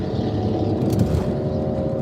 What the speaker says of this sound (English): that car is so fucking loud